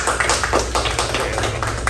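Small group applause greeting Celina as she joins a Spanish-language podcast episode, a short burst of scattered claps with a low background hum, no voices over it.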